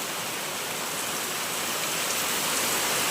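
Heavy rain pours down outdoors in a steady, dense hiss that stays loud and unbroken throughout, with no voices over it.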